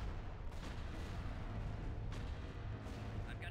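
Heavy, continuous barrage of starship weapons fire in a Star Wars space strategy game, dense low booms and rumbling blasts layered without pause, loud and close throughout.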